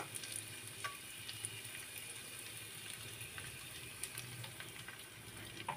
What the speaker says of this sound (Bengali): তেলটা দিয়ে এখন পেঁয়াজ কুচিটাও আমি কিছুক্ষণ ভাজি করে নেব